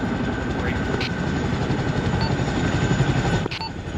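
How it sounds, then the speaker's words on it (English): A Chinook helicopter coming in to a landing zone during a field exercise makes a continuous low, heavy rotor rumble, steady and fairly loud, with a brief change near the end. "Chinook is coming in for LZ at this time, over."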